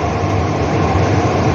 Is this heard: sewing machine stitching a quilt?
no